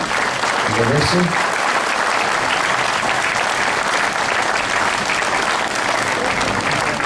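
A crowd claps steadily in sustained, dense applause, loud and continuous, with a brief voice audible near the start.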